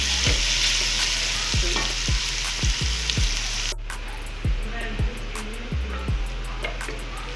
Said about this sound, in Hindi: प्याज को मैंने 1 से 2 मिनट के लिए नरम किया है